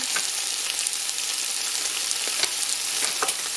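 Leeks fry in hot oil in a pan, giving a steady, close sizzle with a few brief crackles and pops and no voices.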